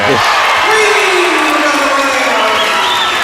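Loud, sustained crowd cheering with whoops and shouts fills a high school boys' basketball gym right after a made three-pointer, staying dense and steady throughout.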